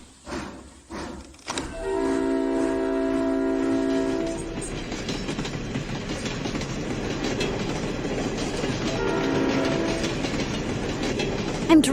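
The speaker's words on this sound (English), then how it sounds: "I'm really driving a train." A steam train rolls along the rails with a continuous rumbling clatter, and its horn sounds twice, once early and once later, over the steady running noise.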